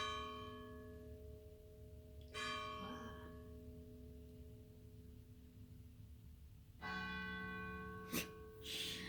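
Church bells ring out in clear tolling strikes over a steady hum, swelling again near the end with a brighter, louder peal.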